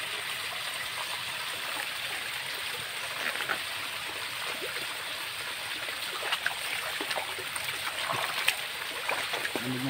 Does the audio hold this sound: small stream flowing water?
yes